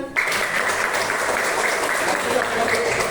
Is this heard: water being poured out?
no